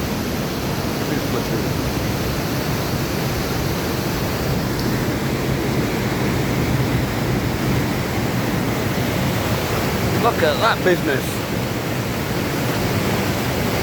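Rushing water of the Falls of Bracklinn pouring through a rock-cut gorge, a loud, steady broadband roar close by throughout, with someone briefly speaking over it near the start.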